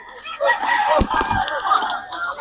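A young gamecock stag at a market crows once nearby, a short raspy call, with voices and crowd noise around it.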